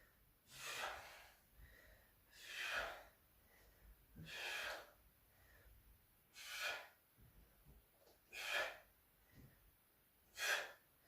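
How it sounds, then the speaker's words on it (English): Heavy rhythmic breathing from someone doing continuous press-ups in a bodyweight endurance workout, six strong exhalations at about two-second intervals, close and alone. "Breathing through the exercise."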